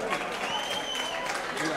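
Brief applause for prize winners at an end-of-festival youth event in Azagra, a short burst of clapping with voices audible among the crowd.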